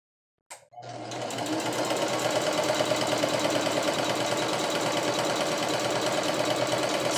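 A sewing machine starts up and stitches fabric in a steady, loud, fast-pulsing whir that runs evenly to the end, close by and with no voices.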